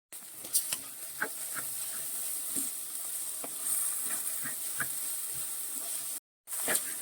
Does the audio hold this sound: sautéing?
yes